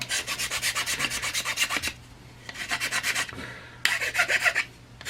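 A hand file rasping along the edge of a GSG-16 magazine: close, rhythmic back-and-forth strokes in three runs, steady and fairly loud, with short pauses between them and no voices.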